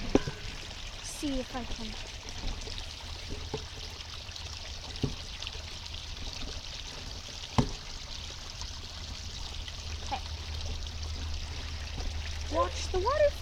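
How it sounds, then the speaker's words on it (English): Rainwater from flooding in Montana pours steadily over a small waterfall, a continuous close rushing and trickling wash, with a person speaking briefly over it. "Watch the waterfall."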